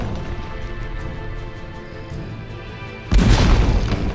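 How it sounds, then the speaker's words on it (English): A deep cannon blast bursts in with a heavy boom partway through Age of Wonders 3 gameplay, loud and rumbling over a steady game music bed. "Blast them a couple of times with the cannon"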